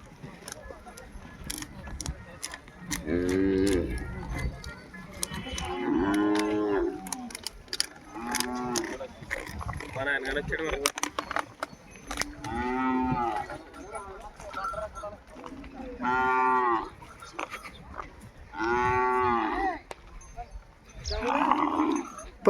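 Large bullocks mooing at a crowded cattle fair in Bijapur, several long low lowing calls at intervals, fairly close, mixed with crowd chatter and people talking nearby.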